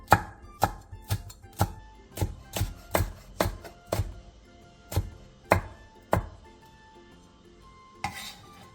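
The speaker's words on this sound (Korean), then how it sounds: "홍고추 2개를 길게 반으로 가른 뒤 어슷썰기로 얇게 채 썰어주세요." A knife thinly slices red chili peppers on a cutting board: about a dozen crisp, close chops fall in a quick, uneven rhythm, then a pause before one last cut, with no voices.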